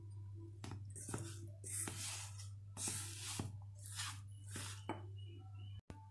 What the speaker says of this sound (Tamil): இந்த மாதிரி பிசைஞ்சு எடுத்துக்கோங்க.